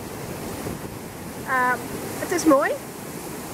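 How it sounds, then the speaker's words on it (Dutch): Chorro de las Mozas waterfall gives a steady wash of falling water with wind noise on the microphone, while a person speaks briefly over it. "De watervallen van Mozes."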